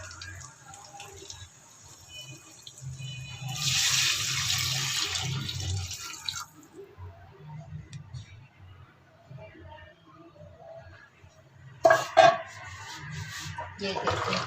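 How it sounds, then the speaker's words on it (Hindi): Water poured from a vessel into fried beef in a cooking pot for beef nihari, a steady rushing pour of a few seconds in the middle, with low kitchen noise and a brief clatter near the end. "इसमें हम लोग पानी डाल देते हैं,"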